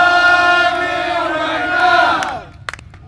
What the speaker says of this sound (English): Let's hear another one of those chants now.